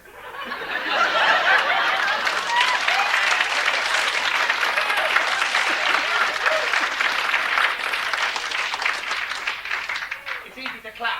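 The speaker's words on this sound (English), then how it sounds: "It's easy to clap, isn't it?" A theatre audience at a live comedy show applauds in a long, loud wave of clapping mixed with scattered laughter and crowd noise, fading slightly near the end.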